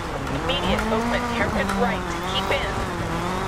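A rally car in the video game DIRT 4 revs and strains with squealing tires, a loud steady engine drone shifting pitch under a co-driver calling pace notes.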